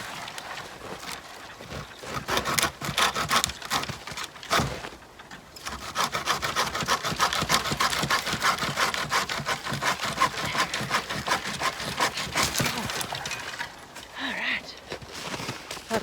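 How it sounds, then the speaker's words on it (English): Timber being hand-sawn for a bushcraft shelter, steady rhythmic rasping strokes up close that continue for most of the stretch, with a brief pause before resuming. "I have to cut at the other end."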